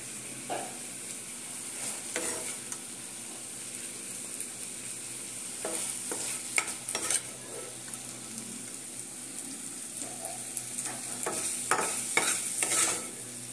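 A spatula scrapes and stirs cauliflower and leafy greens cooking in a pan, with soft sizzling underneath and intermittent scraping strokes, fairly quiet and close, no talking.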